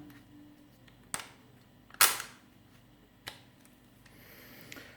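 A Parkside PSSA 20-LI A1 cordless sabre saw's base locking lever unlocked and relocked, giving a few sharp isolated clicks and snaps with one louder rattling clack, close and quiet, no voices.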